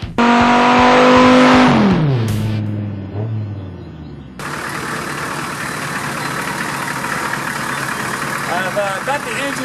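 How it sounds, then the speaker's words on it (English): A Chevrolet Suburban with a blown 700R4 transmission runs its engine. It gives a loud rev that winds down over about two seconds, then settles into a steady, rough running noise close by, with some talking. "I've got the engine running just so I can use the power steering."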